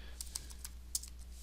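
Several quick keystrokes tap on a computer keyboard in an irregular burst, close and light over a low steady hum, with no talking.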